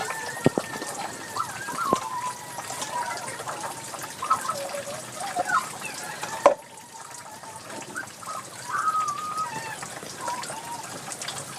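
Heavy rain pours down steadily on an Indian village home in the morning, a continuous broad hiss and patter with a brief sharp knock midway, while a voice talks faintly underneath.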